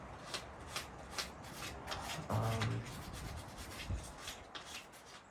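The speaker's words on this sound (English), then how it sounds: "So I'm just cleaning up these battery terminals so we get a definite ground." Battery terminals on an old Farmall Super C tractor being cleaned, a quiet repeated scraping and rasping of a brush or tool on metal in short regular strokes, faint and close, with no talking.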